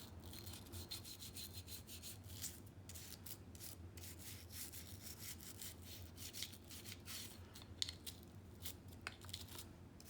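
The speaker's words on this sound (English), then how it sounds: "just kind of give it a light little brush, like over here, just a dry brush first." A handgun is dry brushed during cleaning, making soft, faint, repeated bristle scrubbing strokes that rasp at an uneven rhythm, heard close and alone.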